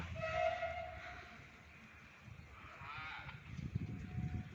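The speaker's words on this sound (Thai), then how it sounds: "นี่ค่ะรถไฟกำลังมานะคะ" A train approaches Aranyaprathet station in Thailand, rumbling in with a low, building roar, a horn-like tone sounding near the start and rail clatter growing louder toward the end.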